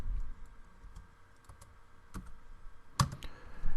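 Typing on a computer keyboard during spreadsheet work in Excel, sparse individual key clicks spread out with a sharper tap near the end, close and fairly quiet with no talking.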